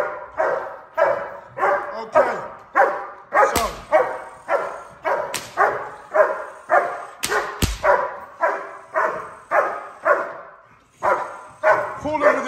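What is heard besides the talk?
police K9 dog barking during bite training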